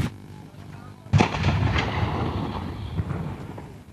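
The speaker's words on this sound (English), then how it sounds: "Artillery guns and mortars pound the guerrillas' positions day and night for 48 hours." Artillery guns and mortars pound guerrilla positions, a heavy boom erupting about a second in and rolling into a long, loud rumbling reverberation with further thuds layered through the distant battlefield din.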